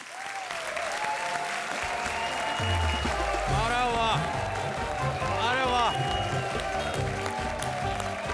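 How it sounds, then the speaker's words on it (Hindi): A studio audience on the Comedy Circus TV comedy show gives sustained applause welcoming comedian Vinay Pathak, with music playing and a voice exclaiming over the clapping. "तो जोरदार तालियों से स्वागत कीजिए उनका।"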